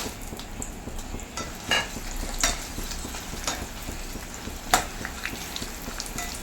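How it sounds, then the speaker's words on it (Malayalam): Oil sizzles steadily in a pan as dried red chillies fry, with occasional sharp metallic clinks of a utensil stirring, close and fairly quiet. "കുറച്ച് വറ്റൽമുളകാണ് ആദ്യം ഒന്ന് ചൂടാക്കി മൂപ്പിച്ചെടുക്കാം"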